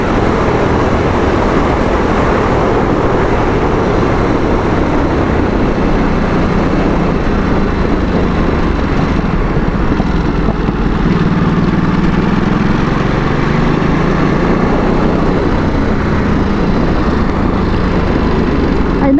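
The engine of a Ducati Supersport S motorcycle being ridden on a bumpy road: a loud, steady, continuous drone mixed with wind rush, with no voices.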